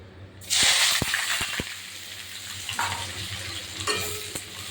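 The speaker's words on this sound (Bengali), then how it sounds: "তো এবার আমি পেঁয়াজ কুচি দিয়ে দেবো।" Chopped onions drop into hot oil for a mutton curry and sizzle loudly at once, followed by a steady frying hiss with a few clinks and stirring scrapes of a utensil against the pan.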